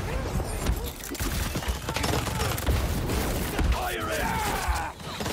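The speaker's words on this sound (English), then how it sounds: "they're shooting the shit out of me" Enemy gunfire in the Spider-Man 2 video game, dense overlapping shots rattling throughout alongside other in-game noise and occasional voices.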